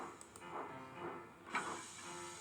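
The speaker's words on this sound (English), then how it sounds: "his steam was wheeshing" Steam locomotive hissing steam from its boiler, a steady hiss throughout with a sharper burst of steam partway through, under faint background noise.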